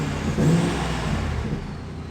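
Supercharged Ford F-150 pickup with a newly installed exhaust starting up, a deep rumbling idle with a brief rev near the start, close and steady.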